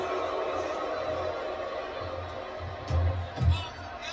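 A wrestling crowd at a WFA event on a Japan tour gives a steady roar of cheering and chatter, with two louder swells near the end while a commentator talks over it.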